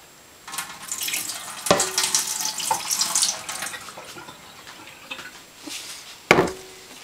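Water splashes and trickles as it is poured out of a silk-yarn dye soaking container, with a couple of sharper sloshes and clunks of the container nearby; no talking.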